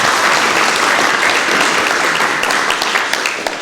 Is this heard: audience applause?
yes